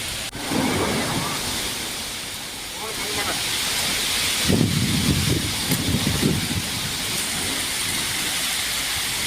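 Heavy rain pouring down in Athani taluk near Chikkodi, a dense continuous hiss of downpour, loud and close, with brief voices and louder bursts partway through.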